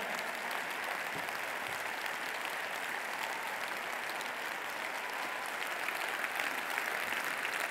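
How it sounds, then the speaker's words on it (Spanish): A packed Movistar Arena crowd rises to its feet in a loud, dense, sustained ovation, steady applause filling the hall throughout with no voices standing out. "Se pone de pie el Movistar Arena para aplaudir a Esteban"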